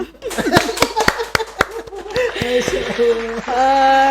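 An audience clapping for a moment during a podcast chat, sharp scattered claps near and loud mixed with some laughter and voices.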